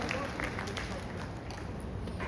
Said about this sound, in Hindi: जोरदार तालियों से मुख्यमंत्री महोदय का अभिवादन